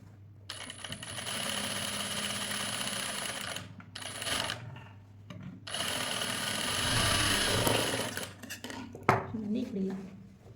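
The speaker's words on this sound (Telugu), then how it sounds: "ఇలా మళ్ళీ దీనిపైన డబల్ స్టిచ్ వేసుకుందాం" A sewing machine runs double stitches along a princess-cut blouse in two long bursts of steady motor whir separated by short stops, close by, ending with a light clink and some handling noise.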